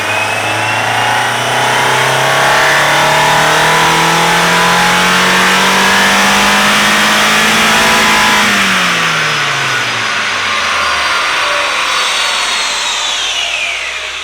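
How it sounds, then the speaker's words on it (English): A Nissan S15 Silvia with a naturally aspirated four-cylinder engine, recently freed of a clogged catalytic converter, revs loudly in fifth gear, its raspy tone climbing steadily for about eight seconds before dropping off as the throttle closes. "Now it has the typical 4-cylinder NA rasp."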